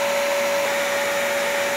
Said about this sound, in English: the fans are all running at full speed, which is what they should be doing